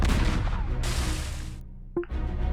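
In a Battleship naval video game, a salvo of shots is fired: a burst of booming blasts with a sharp crack near the end, loud and close, with no talk.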